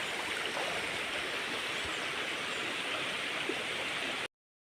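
A river flows in the morning with a steady, broad rush of water and soft gurgling, moderately near and uninterrupted, ending abruptly in silence.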